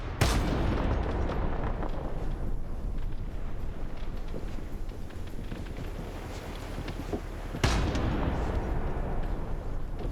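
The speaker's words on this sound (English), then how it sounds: "Got some grenades going off." Grenades go off in a military combat video game: continuous rumbling booms and battlefield noise fill the scene, with two sharp, loud blasts standing out, one at the start and one late, and no voices.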